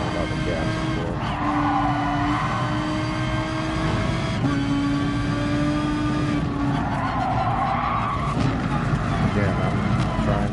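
Race car in Gran Turismo Sport: a loud, continuous engine drone rises and falls through corners while tyres squeal and skid, with someone talking over the game sound throughout.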